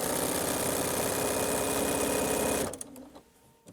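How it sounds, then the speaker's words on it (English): A sewing machine stitches long fabric strips in a close, fast, even mechanical run for about two and a half seconds, then stops abruptly, leaving a few faint handling sounds. "Give it some tension and stitch."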